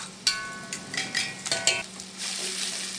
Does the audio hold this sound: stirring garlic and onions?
yes